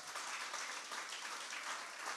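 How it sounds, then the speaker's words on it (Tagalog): A steady wash of applause from a church congregation, even and continuous, fairly quiet and distant with no voices over it. "Palakpakan natin ng Diyos. Napakabuti ng Diyos. Malakas na palakpak!"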